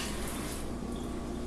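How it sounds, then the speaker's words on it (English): Steady running tap water pouring over a microfiber cloth being wetted, a continuous soft hiss of flow heard close and fairly quiet with no talking. "I'm going to wet my cloth well"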